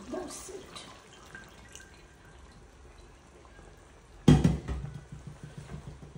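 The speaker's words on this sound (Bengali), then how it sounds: "তো এটার মধ্যে একটু জল দেবো" Water is splashed into a cooking pot partway through, a short loud pour after quiet kitchen background, for a curry being cooked for lunch.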